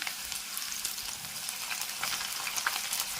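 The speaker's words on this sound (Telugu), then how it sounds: "చూడండి ఇప్పుడు మనం దీంట్లో ఆనియన్స్ వేసేద్దాం చూసారా ఆనియన్స్ వేగంగానే కానీ ఎలా వేగిపోతుందో" Onions fry in hot oil in a pan, giving a steady close sizzle with crackling pops and occasional stirring, no voices.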